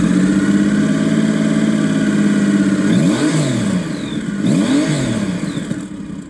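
Triumph Rocket 3 GT engine growling through its triple exhaust, a loud steady idle broken by two sharp revs that rise and fall, close and without talk.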